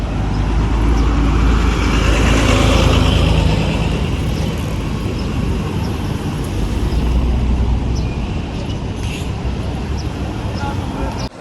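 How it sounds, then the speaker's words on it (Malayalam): Road traffic rumble from the number 10 bus to the airport in Bahrain, near Bahrain Gate in Manama, a loud steady low engine and road drone throughout, with a brief voice at times. "ഇത് 10ാം നമ്പർ ബസ്സാണ്, നേരെ എയർപോർട്ടിലേക്ക് പോകുന്നത്."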